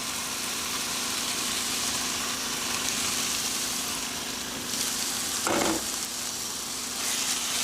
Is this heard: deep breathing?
no